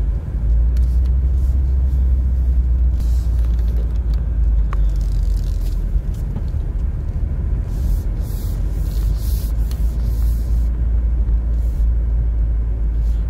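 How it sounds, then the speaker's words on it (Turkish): Dense road traffic on a sunny, cold day: a steady low rumble of passing cars and heavier vehicles, continuous and fairly loud throughout, with a brief hiss like an air brake and no talking. "Yine trafik yoğun."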